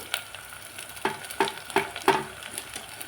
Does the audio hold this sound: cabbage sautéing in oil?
yes